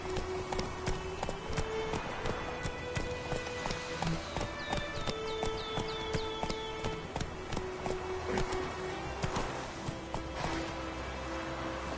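Hooves of the horse Roach galloping in The Witcher 3: Wild Hunt, a quick steady clip-clop rhythm running throughout alongside game music and other effects.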